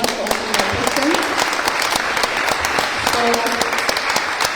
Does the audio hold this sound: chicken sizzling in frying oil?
no